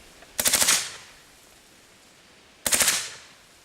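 Two short machine gun bursts of several rapid shots each, loud and close, separated by a pause of about two seconds, with no talk over them.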